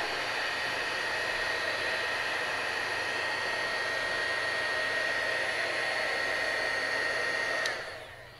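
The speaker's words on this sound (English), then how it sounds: "And the heat tool will allow this to dry a lot faster." A craft heat tool blows hot air to dry ink: a steady, loud whooshing fan roar with a high whine, running close and unbroken before cutting off near the end, with no voices.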